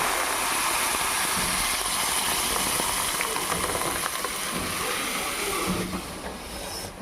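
Dal tipped into a hot tempering of curry leaves for dosakaya pappu, sizzling and frying in the pan with a loud, steady crackling hiss that continues throughout.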